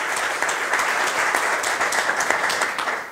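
An audience at a culture and arts festival gathering applauds, a dense steady burst of many hands clapping in a hall, full and fairly loud for a few seconds, fading slightly at the end.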